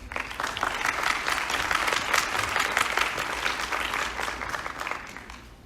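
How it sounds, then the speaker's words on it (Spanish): An audience at a conference on reducing mental health inequalities claps for the panel participants, a steady crackling wash of many hands at moderate loudness that eases slightly toward the end. "Les pido un aplauso para ellos."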